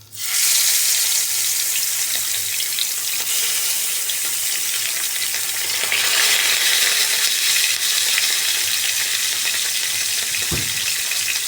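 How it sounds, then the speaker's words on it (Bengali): Bata fish dropped into hot oil, a loud, dense, continuous sizzle that flares up at once and holds steady and close for the whole stretch, with one brief low knock near the end. "তেল গরম হয়ে গেছে এবার আমরা মাছটাকে ওর মধ্যে ছেড়ে দিচ্ছি"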